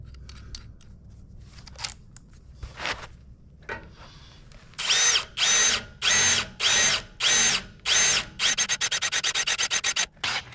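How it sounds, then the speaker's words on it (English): A power drill with a 1/4 inch bit bores through metal on trailer work, giving a series of loud, evenly spaced grinding bursts that quicken into rapid pulses near the end, after a few quieter taps and handling noises. "Now I'm going to put a 1/4 inch bit in there. And I'm going to run that one through."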